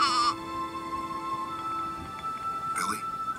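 A cartoon goat, the Billy Goat Gruff character, gives a wavering bleat at the start and another short bleat near the end, close and clear over a quiet background.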